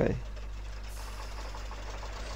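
A truck engine in the Spintires off-road driving game cranks and restarts after stalling, a brief burst at the start settling into a steady, loud low idle rumble.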